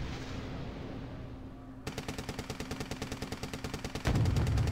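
Rapid automatic gunfire from a C2 unit in a wargame tournament match, a steady burst of evenly spaced shots starting partway through, over background game ambience and ending in a louder rumble.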